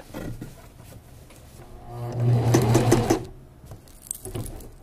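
A sewing machine stitches the crotch seam of a garment, with a steady motor whir that rises for about a second, then drops back amid soft handling noises.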